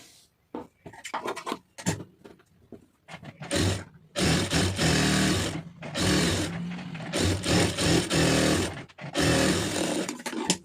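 A sewing machine stitches a blouse band, starting with a few brief stop-start runs and then settling into long, steady, loud whirring stretches up close.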